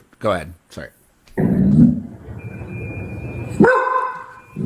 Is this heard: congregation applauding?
no